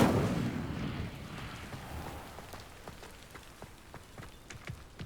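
An Incendio fire spell cast in Hogwarts Legacy: a loud flaring burst of flame that fades into a stretch of sharp crackles and pops, all fairly close.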